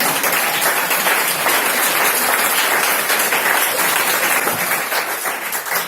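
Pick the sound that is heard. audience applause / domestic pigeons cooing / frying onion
audience applause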